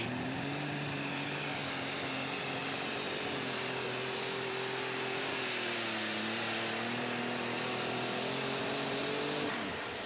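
An unlimited super stock pulling tractor of about 4,000 horsepower roars through a pull at a competition, a sustained loud, high engine whine that holds and shifts pitch slightly for about ten seconds.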